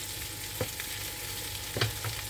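Ingredients for an economical festive salad frying quietly in a pan, a soft steady sizzle with a few brief stirring clatters near the start and end.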